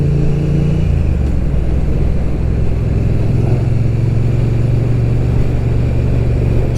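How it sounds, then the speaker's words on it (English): A BSA motorcycle engine roars loudly as the bike pulls away from a roundabout, a continuous close drone whose pitch climbs steadily as it accelerates. "Just hear the engine roar as you pull off from a roundabout."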